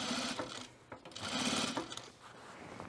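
A sewing machine stitching through a puffer vest lining, its needle running in a fast steady buzz in two close bursts with a brief pause between, moderately quiet.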